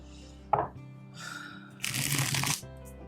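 Tarot cards are shuffled close by in a few crisp bursts, with a sharp tap, a short riffle and a longer flurry of card noise against a quiet background.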